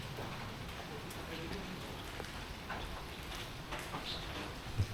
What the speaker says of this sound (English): At least the rain's a little bit less right now.